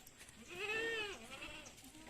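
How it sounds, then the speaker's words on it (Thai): A goat in its pen gives one drawn-out bleat at moderate distance, faint against a low background hiss, with no talking. "วันนี้ มาดูแพะที่คอกนะคะ"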